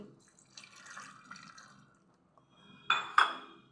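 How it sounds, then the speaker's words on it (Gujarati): Water from a small bowl poured over cut tomato pieces set to boil for tomato soup, arriving as a brief splashing burst near the end after a mostly quiet stretch with faint kitchen sounds. "ટમેટાના પીસ કરી લીધા છે એક વાટકી પાણી નાખી"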